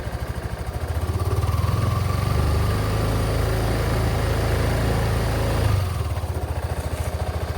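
A scooter engine rises from idle into a mild, sustained rev, holds for several seconds, then drops back to a steady idle close by.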